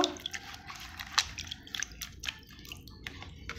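Water drips and trickles off freshly washed bottle gourd leaves set in a plate to drain, a few light close patters and small splashes scattered over quiet background hiss.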